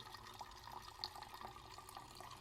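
Fuel with some gunk in it is poured out of a container to check for water separation, giving a faint, quiet trickle of liquid with soft drips and splashes and no talking.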